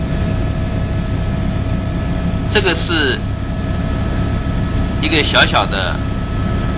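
Helicopter cabin just after takeoff from Juneau toward the Mendenhall Glacier, a constant loud droning rotor and engine roar filling the clip while someone speaks over it twice.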